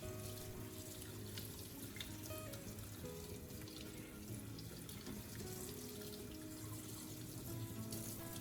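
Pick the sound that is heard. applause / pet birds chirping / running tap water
running tap water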